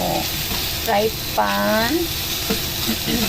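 Minced pork frying in a hot pan for mapo tofu, a steady broad sizzle running throughout, close and moderately loud, with a brief tonal clatter of utensils midway.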